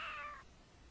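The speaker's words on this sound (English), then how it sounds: "there was like that sound effect with all the different cats" A single cat meow from the 1993 game Lenny's Music Toons, a short bright rising-and-falling cry that fades after half a second into faint quiet.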